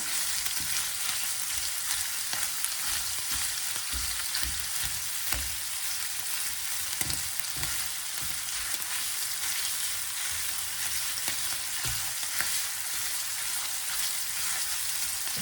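Minced meat sizzles and fries steadily in a pan as it is broken apart, a dense continuous crackling hiss with soft scraping and clunking strokes of the utensil throughout, close and with no talking.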